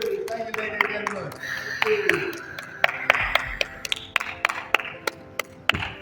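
Scattered hand claps from a small group ring out in sharp, uneven bursts, with cheering voices over the top before the clapping thins out.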